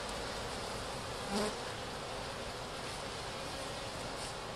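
Honeybees swarm and buzz close around a beekeeper during a hive inspection, a steady dense hum that holds without a break, with no talking.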